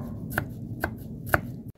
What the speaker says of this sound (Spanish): Ya que ya tengo bastante cebollita picada, le voy a dar otra pasadita para que quede más finita